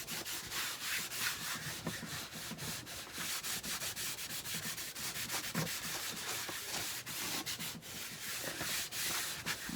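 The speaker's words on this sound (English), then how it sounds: "I have the clear wax on it now, and I'm just kind of buffing it out some." Cloth buffing clear wax into a distressed wood scrap makes a steady, close rubbing and brushing sound in quick back-and-forth strokes, with no one talking.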